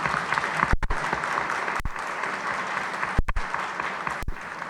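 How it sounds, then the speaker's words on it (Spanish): A conference hall audience applauds a deputy with steady, dense clapping that holds throughout, broken by a few sharp louder claps near the front. "aplaudo y pido un aplauso para usted, diputada"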